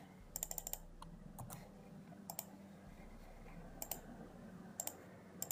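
Computer mouse double-clicking at a desk while working in a C# editor, with quiet, close pairs of sharp clicks repeated several times at irregular intervals over faint background hum.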